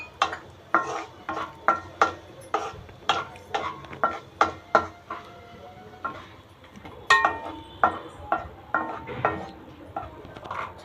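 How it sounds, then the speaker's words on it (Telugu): Dry fruits frying in ghee in a pan while being stirred: a steady rhythm of sharp metallic scrapes and clinks from a spoon against the pan, repeating roughly every half second over a faint sizzle. "ఇప్పుడు డ్రై ఫ్రూట్స్ వేయించుకుందామండి."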